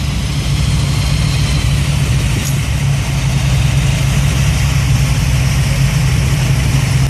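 A classic car engine fitted with a gear drive idles steadily nearby, a constant low rumble with no revving and no voices.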